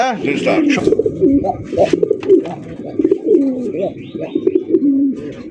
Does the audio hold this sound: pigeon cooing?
yes